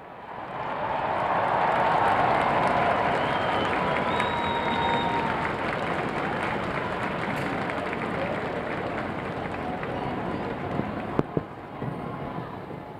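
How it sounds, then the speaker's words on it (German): A large outdoor crowd in St. Peter's Square applauds and cheers as the Pope appears at the window for the Angelus, a broad continuous roar of clapping and voices, with a few sharper claps near the end. "Normalerweise begrüßt vom Jubel der Menschen."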